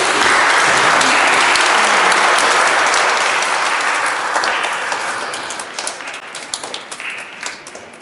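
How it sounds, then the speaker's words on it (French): A church congregation at Sunday Mass bursts into loud applause that holds steady for several seconds, then thins out into scattered claps as it fades. "Est-ce qu'on pourrait applaudir au serpent de Jésus?"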